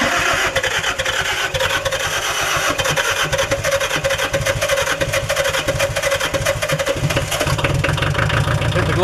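Kubota L345DT tractor diesel engine cranking in the cold, rapid rhythmic chugging and knocking of the starter and engine, loud, close and continuous throughout.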